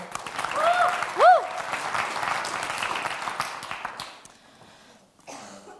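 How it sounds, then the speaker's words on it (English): Audience applause at a summit, moderate clapping that gradually thins and fades out, with a whistle or cheer near the start and a brief voice at the end. "A round of applause for what a wonderful day, everyone."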